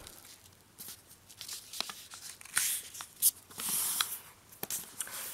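A rectangular strip of origami paper is folded in half, giving soft close crinkles, rustles and sharp creasing swipes in quiet, irregular bursts with no talking.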